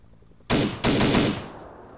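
Two sudden bursts of rapid automatic gunfire in a military video game, loud and close, the second following right after the first and then tailing off into a short echo.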